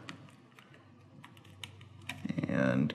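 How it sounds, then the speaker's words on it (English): A keycap is pressed back onto an HP Pavilion x360 14-CE laptop keyboard, giving a series of small, close plastic clicks and taps, followed by a voice speaking at the end. "a nice push around the edge of the key, and it's reattached"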